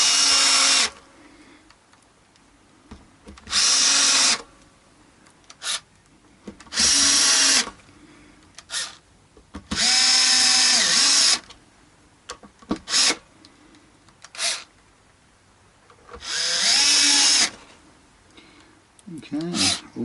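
A power drill drives screws into a Squier Strat guitar in a series of short, loud whirring bursts separated by pauses, with brief rubbing and handling noises in between.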